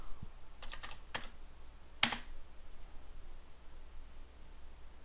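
Computer keyboard typing entering a number, a few quick close clicks of keys in a short burst then one sharper keystroke, followed by quiet room tone.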